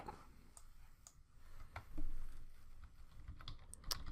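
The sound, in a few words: typing a file title on computer keyboard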